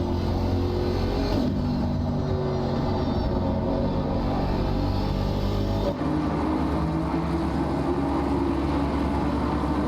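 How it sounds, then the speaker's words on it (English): A Ginetta and an Aston Martin race car running nose to tail around the Hungaroring, their engines a loud, continuous roar with a change in pitch partway through. "allows the Ginetta to inch just a little bit closer and get on the bumper of the leading Aston Martin"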